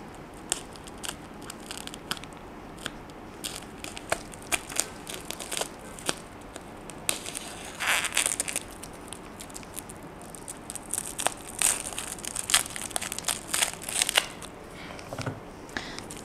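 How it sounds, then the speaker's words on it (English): Packaging on an armored composite fiber optic cable is unwrapped up close, giving faint, irregular plastic crinkles, rustles and small crackling pops with no talk. "So let's unwrap our armor composite fiber optic cable."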